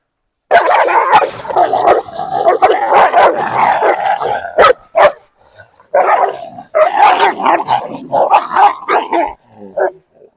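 Dogs fight in a frantic tangle of barks, snarls and yelps, loud and close, with a short lull before the scuffle flares up again; a puppy joins the fight.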